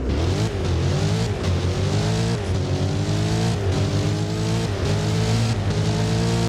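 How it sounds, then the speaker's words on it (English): A Corvette Z06 V8 in the racing game Driving Empire accelerates hard. Its loud engine note climbs repeatedly and drops back at each upshift in a rising, rhythmic pattern with no talking. "Let's hear the acceleration sound now."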